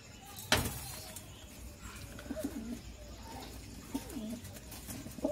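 Pigeons cooing softly in a loft, a few low throaty coos spread across the stretch amid faint background noise, with one sharp knock near the start.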